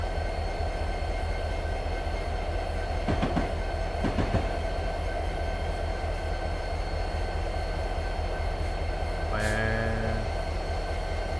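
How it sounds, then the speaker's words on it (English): Rolling train in the Train Sim World 2020 game, a steady low rumble with faint rhythmic clicks, brief knocks a few seconds in and a short tonal chime or alert near the end. "The train is already moving."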